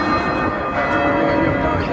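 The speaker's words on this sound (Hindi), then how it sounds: "ये चर्च का घंटा बज रहा है।" A church bell in London rings out at midday, its tolls counting twelve; a sustained, resonant metallic tone with shimmering overtones fills the whole stretch, loud and steady over a faint low street rumble.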